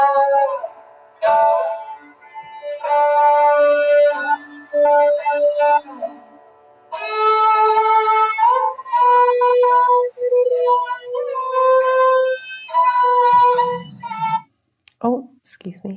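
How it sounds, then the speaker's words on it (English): Saranda, a hollow-bodied Sikh heritage bowed string instrument, heard from a recording playing a melodic line of sustained and gliding notes with short pauses between phrases, fairly loud and alone until a brief cut at the end. "This is the sound of the Saranda."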